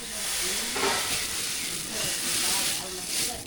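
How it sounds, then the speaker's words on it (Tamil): Milk payasam with vermicelli bubbles and simmers in a pot, making a soft, steady hiss with faint bubbling that continues throughout, fairly quiet. "பாயசத்துக்கு வந்து சேமியா நல்லா கொதிச்சிட்டு அதை கூட ஜீனி சேர்த்துக்கலாம்"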